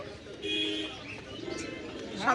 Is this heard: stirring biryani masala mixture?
no